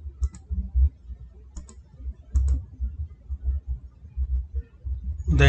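Computer mouse clicks while setting up a Notepad page on Windows 11, several sharp, close clicks spaced irregularly over a low background hum, with no talking.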